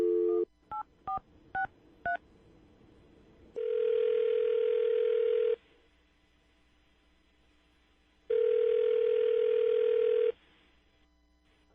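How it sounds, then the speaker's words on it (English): A landline phone call begins with a quick series of touch-tone dialing beeps, then a steady ringback tone sounds in two long bursts separated by a pause. "I'm going to dial the phone number right now"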